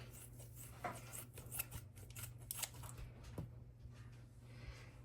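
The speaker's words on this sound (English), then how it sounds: "I got half a pack of bacon here, and I'm just going to cut it up." Scissors snipping through half a pack of raw bacon for a Southern supper, a quick series of close, crisp cuts over a low kitchen hum.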